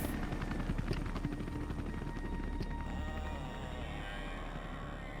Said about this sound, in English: Don't take my pink chopper!